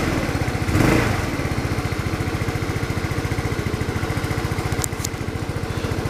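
A small gas motorbike engine idles with a steady, fast puttering throb, loud and close, with a brief revving surge near the start.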